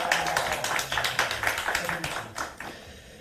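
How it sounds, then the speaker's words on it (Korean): A small group claps at a parliamentary meeting as a lawmaker is introduced, individual claps audible and fairly close, with a voice over it, the clapping thinning and fading toward the end. "박수 부탁드립니다."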